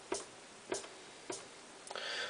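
A hi-hat sample played on an Akai MPC 2500, three crisp, evenly spaced ticks followed by a brief, brighter open-sounding hit, quiet and alone.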